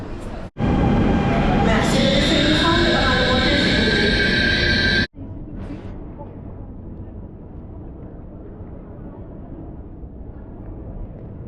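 A loud rumbling roar of a Paris metro train with high whining tones cuts off abruptly, leaving a lower steady hum of the moving carriage.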